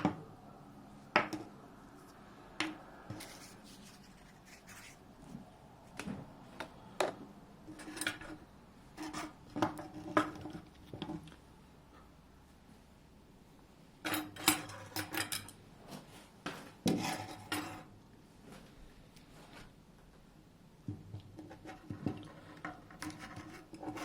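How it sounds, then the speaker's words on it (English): Metal clicks, taps and rubbing scrapes as a flaring tool is clamped over a brake pipe and screwed onto it during a Triumph TR7 rear brake restoration; close, quiet, irregular handling sounds scattered throughout with brief pauses. "So you clamp the tool lightly over the pipe, then screw in one end of the forming tool."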